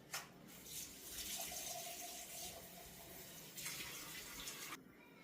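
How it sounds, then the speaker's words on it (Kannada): Water runs steadily into a cooking pot while a ridge gourd sambar is being made at home, a continuous faint splashing stream with a brief stop near the end. "ಸೊ ನಾನು ಇನ್ನೊಂದು ಸ್ವಲ್ಪ ನೀರು ಹಾಕ್ಕೋತಾ ಇದ್ದೀನಿ."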